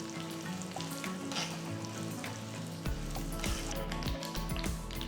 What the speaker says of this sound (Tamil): கொஞ்சம் கடுகு சேர்த்து கடுகு பொரிஞ்சதும் பெருங்காயத்தூள் சேர்த்து பொரிய விடுங்க